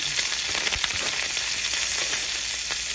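Lamb chops and fresh herbs sizzle steadily in a hot frying pan, a constant close hiss of frying fat with faint stirring movements.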